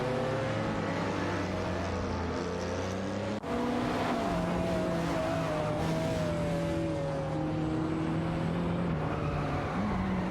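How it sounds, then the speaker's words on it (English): Lamborghini Diablo SV and De Tomaso racing in a video game, engines droning and rising in pitch through gear changes, a continuous loud close-up roar with no pauses. "The De Tomaso and the Lamborghini are neck and neck as they navigate through the track."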